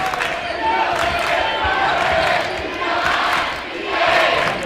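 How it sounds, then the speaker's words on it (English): Home crowd at a high school boys basketball game (Chargers vs Sioux Valley) cheers and roars steadily throughout, loud and sustained, with surges of noise and a commentator talking over it. "Good crowd on hand, and they're letting their players know it right now."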